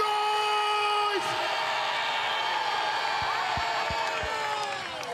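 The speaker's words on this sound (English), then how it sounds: "So I'd actually like to hear the entire KZN make some noise!" Crowd at a DA party congress opening ceremony in South Africa making noise, a loud sustained roar of cheering with whistles and horn-like tones, and a few sharp bangs partway through.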